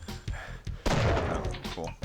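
Video game gunfire, a few sharp shots followed by a burst of louder crackling fire, heard briefly under a player's talk.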